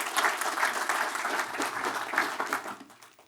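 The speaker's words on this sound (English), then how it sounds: "You get an applause too." Audience applause greets panelists called onto the stage at a telecom industry conference, a full room of clapping that holds steady and then tapers off toward the end.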